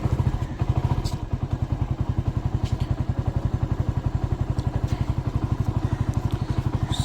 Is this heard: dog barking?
no